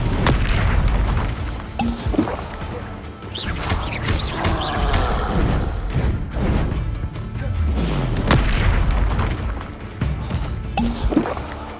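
Confringo fire spell explosions in the video game Hogwarts Legacy, heard as loud, booming blasts and crackling bursts that follow one another over the whole stretch, with layered magical whooshes.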